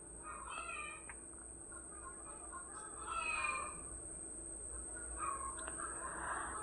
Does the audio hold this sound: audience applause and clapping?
no